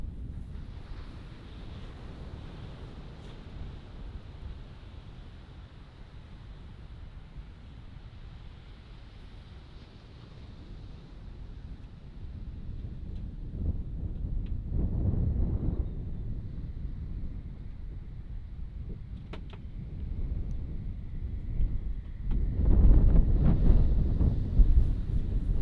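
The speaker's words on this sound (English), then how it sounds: "it's so windy" Strong wind buffets a beach campsite in the rain, a steady loud roar with rising gusts near the middle and end, and no talk.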